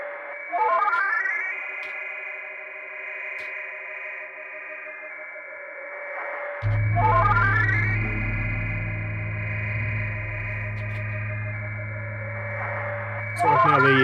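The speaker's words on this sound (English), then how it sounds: "So right now the delay echoes are getting louder and louder, because feedback is past 12 o'clock." An Elektron Digitone synth plays ambient tones through a delay whose echoes keep repeating and building as the feedback climbs into overdrive, and a low bass layer joins partway through, with no voices.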